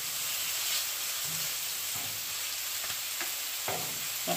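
A chicken quesadilla cooks on a Pit Boss Ultimate griddle set to low, with a steady, close sizzling hiss running throughout and a few faint scrapes and taps over it.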